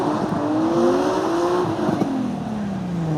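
A Nissan 370Z drifts around Five Flags Speedway in The Crew racing game, with a loud, continuous engine drone and a long wavering tire squeal that rises and falls through the corner.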